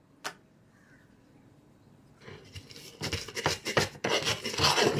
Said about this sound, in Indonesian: Garam, gula dengan penyedap rasa kita haluskan dulu.